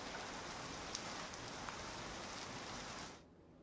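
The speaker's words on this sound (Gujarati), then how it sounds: "અમરેલી શહેરમાં ધોધમાર વરસાદ પડ્યો" Heavy rain pours in Amreli, a dense, steady hiss of falling water close at hand that cuts off near the end, with no talking.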